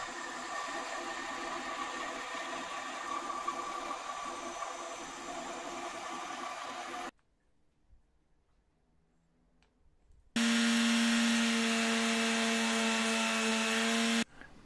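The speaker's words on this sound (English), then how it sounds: "cut these out on the bandsaw" A bandsaw cuts small wooden pieces for the gooseneck of a boat. There is a steady whine with cutting noise, then a few seconds of near silence, then a louder, steadier run of the saw before it stops.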